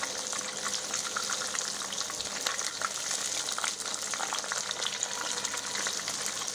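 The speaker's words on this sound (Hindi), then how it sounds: "और इसे दूसरी तरफ भी फ्राई होने दूंगी।" Paneer pieces sizzle steadily in a hot pan as their second side fries until crispy, a dense, even crackle that holds at the same level throughout with no voices.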